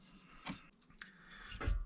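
Sanding sealer being rubbed off the neck of a scalloped superstrat Fender Stratocaster, a few soft close strokes of abrasive on wood separated by quiet pauses.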